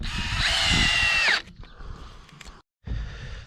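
A power drill drives screws on a house garage build site, one sustained whine with a falling pitch at the end, then brief quieter tool noise and a short stop before a last burst.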